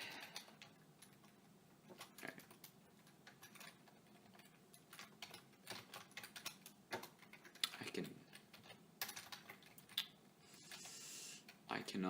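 Fast, uneven clatter of keys on a computer keyboard, recorded close and fairly quiet, with bursts of quick keystrokes and brief pauses.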